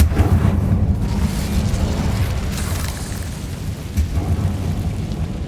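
Incendio fire spell cast in Hogwarts Legacy: a loud whooshing burst of flame up front with deep rumbling, fading into a steady low roar of fire and ambience, no talking.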